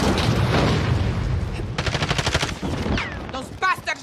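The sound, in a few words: enemy soldiers shooting guns in a video game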